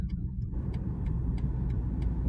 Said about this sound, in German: Jetzt werde ich, falls hier eine passende Stelle ist, noch einmal versuchen, etwas schneller zu fahren.